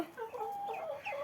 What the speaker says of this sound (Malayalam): ഇത് കാടാക്കോഴിയാണ്.